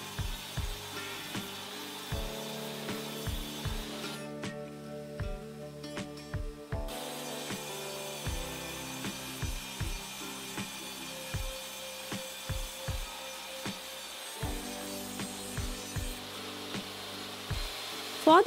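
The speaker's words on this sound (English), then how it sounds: "I cut them to the height of my box." Half-inch-thick wooden board being cut to length with a hand saw, a rhythmic rasp of regular strokes over a faint steady background hum, with a short pause midway through.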